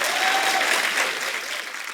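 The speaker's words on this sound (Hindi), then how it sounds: "ठोको ताली, ठोको ताली।" A studio audience applauds on a comedy talk show, a dense steady clatter of many hands that fades slightly toward the end, with no talk over it.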